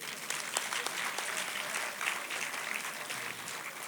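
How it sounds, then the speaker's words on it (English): Guests at the FAWE Uganda Silver Jubilee fundraising dinner applaud themselves, many hands clapping in a continuous, even burst that stays at moderate level for about four seconds. "Can we clap for ourselves?"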